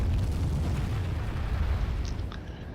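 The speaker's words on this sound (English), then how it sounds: "So their catapult begins firing." A catapult fires in the video game Third Age Reforged, producing a dense rumbling boom with heavy low-end impacts, followed by a few faint, brief higher clatters toward the end.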